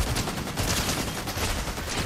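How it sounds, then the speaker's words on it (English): Rapid gunfire from a video game, dense and continuous with a steady crackling rattle of shots throughout, fairly loud with no talk over it. "Who's shooting?"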